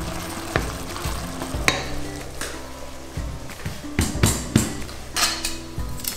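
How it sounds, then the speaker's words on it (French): Apples caramelize in their juice in a pan for puff pastry tartlets, a steady close sizzle broken by frequent stirring scrapes and occasional knocks of the utensil, with no talk. "On va attendre un petit moment pour que tout ce jus caramélise un peu ces pommes."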